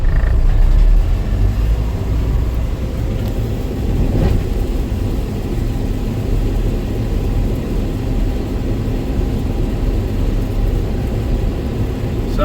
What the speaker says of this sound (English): The chopper kicked on.